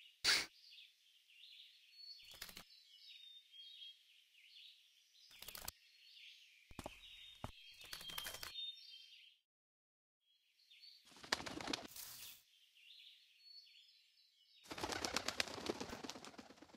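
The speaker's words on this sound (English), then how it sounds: "Pigeon?" Pigeon's wings flapping in a series of short, sharp fluttering bursts, near and fairly faint, separated by quiet gaps, with a longer flurry at the end.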